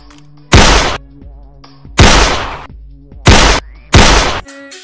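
Four loud gunshots in Free Fire game play, sharp bursts spaced about a second apart against a quiet background.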